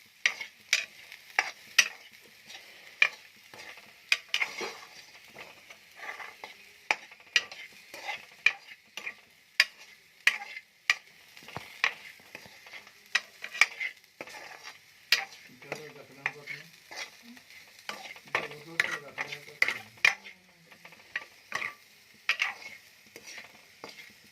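Spoon scraping and stirring sweet corn with chilli powder in a pan, a steady run of sharp metallic clicks and scrapes over a faint sizzle, close and alone.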